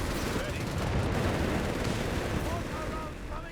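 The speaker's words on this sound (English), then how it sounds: "Quick bit of mortar fire there" Dense battle din from Company of Heroes 3, with overlapping gunfire and mortar blasts rolling steadily through all three seconds at a constant loud level, thinning slightly near the end.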